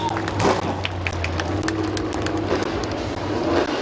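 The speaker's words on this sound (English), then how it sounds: "let's have a big, big round of applause for car 51, Rick Elkins" Crowd applause for the race winner pulling into victory lane at Midvale Speedway, a dense steady wash of clapping with a low engine hum running underneath.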